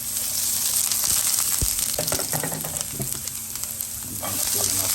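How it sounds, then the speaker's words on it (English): Onions sizzle steadily in a little oil in a pan over medium heat, a continuous close frying hiss with scraping stirs from a plastic spatula and occasional pops, no talk. "We're just going to caramelize our onions."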